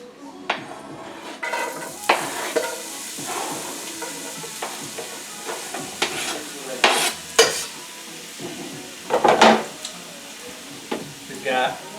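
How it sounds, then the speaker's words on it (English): Onions tossed into a hot pan for sofrito hiss and crackle while a utensil repeatedly scrapes and clatters against the metal, with brief bursts of louder sizzling and occasional speech over it. "We have some onions going in."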